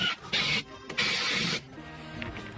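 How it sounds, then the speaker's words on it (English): A countersink bit grinds around a hole in metal so an R33 handbrake fits into an S13, in three short, harsh bursts of whirring cut, close and fairly loud, with quieter scraping between. "you can see I've just put a countersink around the outside"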